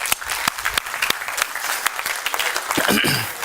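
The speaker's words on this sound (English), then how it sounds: "I think we should give everyone an applause for this, right?" An audience at a workshop wrap-up breaks into applause, loud, fast overlapping claps with some sharper individual hand strikes standing out, sustained across the whole span.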